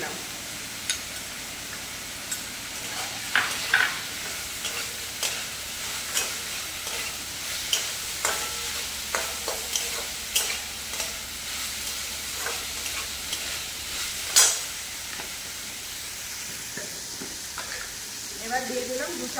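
Spiced fried potatoes, cooked earlier with salt, turmeric and chilli and now tossed with garam masala, being stirred in a pan, giving soft repeated scraping strokes over a low sizzle, close by and fairly quiet.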